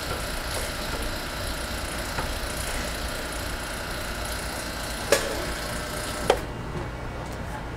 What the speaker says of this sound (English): we'll pump our system all the way back down the hard vacuum